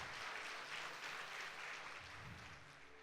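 Faint applause from a church congregation rises and fades over a few seconds, heard from a distance without any voices on top.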